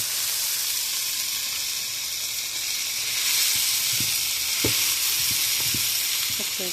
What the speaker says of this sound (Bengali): ক্যাপসিকাম, একটু রসুন সব কিছু আমি দিচ্ছি দিয়ে এখন এগুলো আমি একটু ভাজি নিচ্ছি